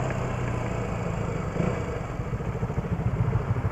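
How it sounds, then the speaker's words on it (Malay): Several motorcycle engines rumble and idle close by, with a dense, continuous throaty drone and occasional revving. "banyak gila motor"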